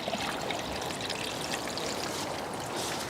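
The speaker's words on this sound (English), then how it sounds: "followed by another litre of water." Distilled water poured through a funnel into the cooling system of a BMW with an N62 engine, a steady close gurgling stream running continuously without pause.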